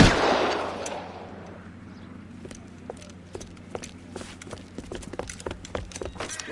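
Gunfire in a PS4 video game shootout, with a burst of noise at the start followed by a run of sharp, scattered shots under steady background ambience.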